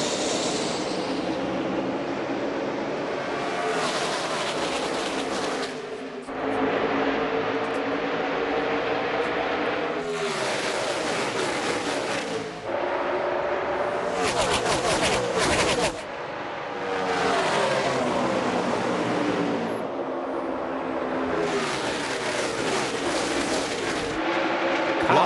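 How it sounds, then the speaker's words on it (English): NASCAR stock cars roaring off the green flag at the start of the Monster Energy All-Star Race, a dense, loud engine roar that swells and surges in waves as the pack passes. "Here they come for a monster of an all-star race. Green flag, Kyle Larson, Kyle Busch head them off to turn 1"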